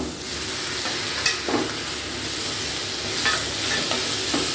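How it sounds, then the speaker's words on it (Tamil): Tomatoes sauté in a pan for a mixed-vegetable kadambam chutney, giving a soft, steady sizzle close by, broken by a few brief scrapes of stirring, with no one talking. "இது தக்காளி வந்து நல்லா வதங்கட்டும்"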